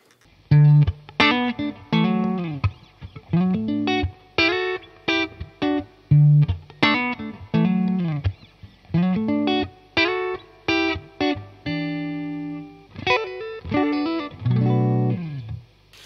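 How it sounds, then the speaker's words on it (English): Clean electric guitar tone from a Fender Stratocaster played through a Fender Deluxe amplifier, a run of loud, close plucked notes and chords with short gaps between phrases and no talking. "So I'm playing my Strat through my Fender Deluxe amplifier."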